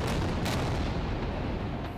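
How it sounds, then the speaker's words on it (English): Dense, continuous rumbling booms and cracks roll together like distant explosions from Israeli airstrikes on Gaza City at night, with a couple of sharper bursts standing out. "Explosions rocked the streets of Gaza City overnight as Israeli airstrikes intensified"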